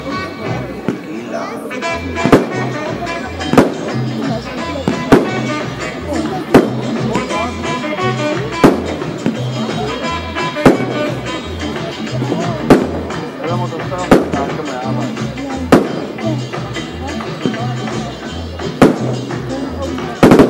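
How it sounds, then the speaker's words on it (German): A 13-shot, 30 mm firework battery with a dark gold effect fires a rapid series of sharp booms and crackles in steady rhythm, loud and near. "die Gold Spider, eine 13-Schuss-Batterie, 30 mm, schöne dunkle Goldkette."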